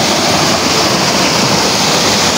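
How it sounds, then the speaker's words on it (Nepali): A jungle waterfall delivers a dense, continuous roar of falling water, loud and close, steady throughout with no voices. "यहाँको झरना"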